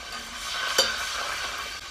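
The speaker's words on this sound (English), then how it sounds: "Hear it sizzling in there." Dairy-free almond, Brazil-nut and hazelnut milk sizzles in a pan with flour and oil for a fettuccine sauce, a close, steady hiss broken by one short scraping stir.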